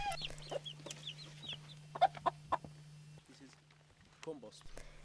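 Chickens cluck in mobile chicken tractors on a permaculture farm in Jordan, several short close clucks and calls over a steady low hum, with a person speaking softly nearby.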